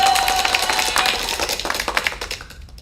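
A short burst of clapping applause with a light cheer, loud at first and thinning into scattered claps before fading out.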